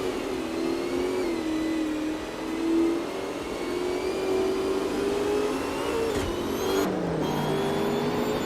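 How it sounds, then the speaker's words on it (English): A 1996 Opel Calibra DTM race car in a racing video game holds a steady, sustained engine drone with gently shifting pitch, plus a brief whoosh or gear change near the end, with no voices. "Naturally Unlucky is driving an Opel Calibra DTM from 1996."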